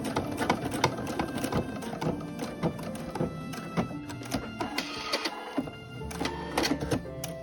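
A sewing machine stitches along the strap of a fabric tote bag, running in a steady mechanical rattle with brief stops and restarts, fairly close and alone without talk.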